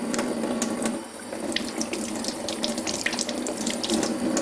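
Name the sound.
water running from a tap while washing vegetables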